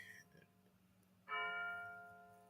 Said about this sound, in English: that bell right there is the witching hour